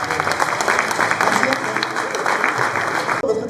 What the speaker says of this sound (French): Merci beaucoup, vous pouvez l'applaudir très fort.